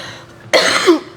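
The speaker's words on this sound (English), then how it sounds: "I was trying not to cough." A single sharp, loud cough bursts out close to the microphone after a moment of quiet, with a brief rough tail.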